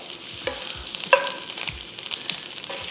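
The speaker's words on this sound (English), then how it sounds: "we will cook our onions until it starts to go clear in color" Onions cooking in hot oil in a pan, a soft continuous frying hiss with occasional light stirring scrapes and one brief sharp clink.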